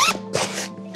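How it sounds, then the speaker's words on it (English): A zip running down the edge of a Fox Rage fishing mat is pulled open, giving a close, steady rasping burr that stops briefly and then carries on in a second longer pull. "you've got zips down the edge here"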